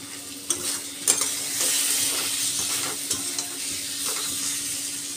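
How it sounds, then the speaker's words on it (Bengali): Spices sauté in a pan with a continuous close sizzle, broken by regular scraping stirs and a few sharper knocks of the spatula against the pan. "এখানটাতে আমার কষা হচ্ছে মশলা দিয়ে"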